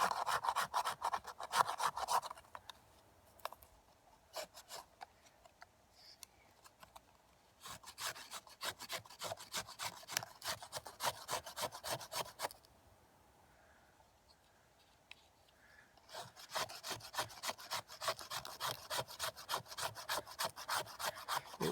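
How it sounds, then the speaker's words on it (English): A Surform file rasps shavings off a piece of fatwood for a fire lay in quick, rhythmic strokes, close up, in bursts separated by short pauses. "In the surfboard factory, we call this thing a Sureform file."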